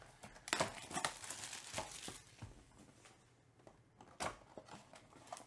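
A 2023 Topps Composite football card pack torn open by hand, with close, crisp crinkling and ripping of foil wrapper in several bursts, louder at the start and again near the end, no talking.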